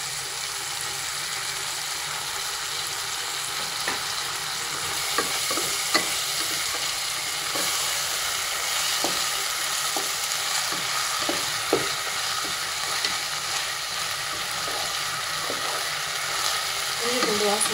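Onions with ginger garlic paste sauté in a pan, a continuous close sizzle with intermittent scraping and tapping from stirring running throughout.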